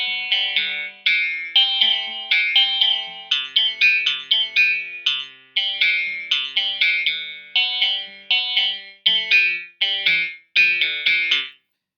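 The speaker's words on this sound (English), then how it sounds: "This guitar I've tried to make sound quite real by just kind of doing ascending arpeggio sounds." Ascending guitar arpeggios in a music track, rendered with chorus and effects, play in repeated rising runs of bright plucked notes, each phrase decaying before the next, clear and without voices.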